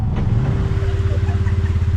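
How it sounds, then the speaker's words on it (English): Two tractors pulling a boat over dunes in Brazil: loud, rumbling heavy engines drone steadily nearby, a low mechanical growl with some clatter, no speech over it. "2 tractors, I believe, pulling a boat."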